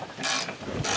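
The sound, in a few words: ratchet wrench undoing a bolt on a KRX windshield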